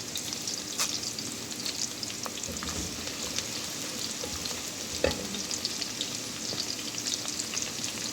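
Onions, red chili and cumin sauté in a pan, giving a steady, dense sizzle throughout with a single louder stirring knock near the middle.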